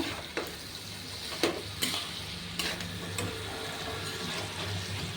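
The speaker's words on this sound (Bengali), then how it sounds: "এখন চেরা কাঁচা লঙ্কাগুলো দিয়ে দিব, দিয়ে নাড়াচাড়া করে নেব" Slit green chillies are added to a frying soybean curry and stirred, a low steady sizzle broken by several sharp scrapes and clacks of a spoon against the pan, close and without speech.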